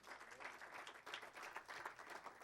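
Church congregation applauding during a Spanish-language worship service, a steady, fairly quiet patter of many hands clapping with no break.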